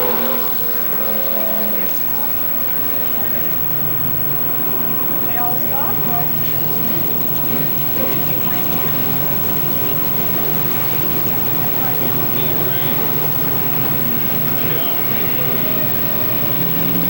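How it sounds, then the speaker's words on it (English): Race cars run at Billings Motorsports Park as several cars spin out on turn 2, a continuous rumble of engines from the track heard at a distance beneath an announcer's steady commentary. "several cars spinning out on turn 2."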